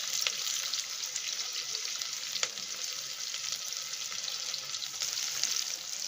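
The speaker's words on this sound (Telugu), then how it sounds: "తరిగి పెట్టుకున్న పచ్చిమిరపకాయలు అండ్ తరిగి పెట్టుకున్న ఆనియన్ ఆయిల్లో వేసేస్తాం." Chopped green chillies and onion fry in oil for egg palav, a faint, even hiss of sizzling with a couple of soft clicks, steady and alone with no talking.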